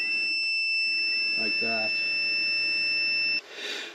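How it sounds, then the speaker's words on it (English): Low-voltage battery monitor on a 12-volt off-grid cabin battery bank, emitting a continuous high piercing beep that holds steady for over three seconds and then stops, while someone talks briefly over it. "when you turn this one on, and if it's below 12, it gets a beeping sound"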